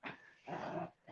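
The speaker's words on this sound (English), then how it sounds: "He's a good dog." A big dog growls in two low rumbling bursts with a short third snarl, close and fairly loud, with no talking.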